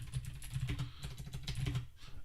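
Typing on a computer keyboard, a quick run of close, crisp key clicks with uneven rhythm and no talking.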